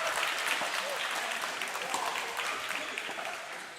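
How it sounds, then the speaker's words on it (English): Crowd of local supporters at a pickleball match in Vietnam applauding and cheering, a dense, sustained wash of clapping that slowly fades toward the end. "How good is it to have the local supporters here cheering on their man?"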